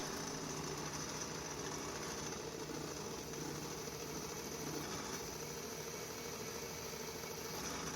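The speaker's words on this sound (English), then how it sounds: "Here we're over at the drill press again, again on its slowest speed with a 3/8 drill bit." A drill press on its slowest speed bores with a 3/8 drill bit, giving a steady, constant motor whine and grinding hum that stays even and quiet throughout, with no speech.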